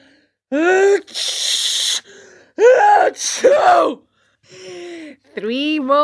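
A storyteller voices several exaggerated sneezes, each a sharp gasping intake followed by a loud breathy burst. They come in separate spaced bursts, close and loud against silence.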